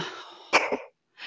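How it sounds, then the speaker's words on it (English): Someone coughs twice in quick succession, a short throaty rasp before and two sharp bursts, close and fairly quiet, followed by a brief silence and the start of another sound. "I had to cough."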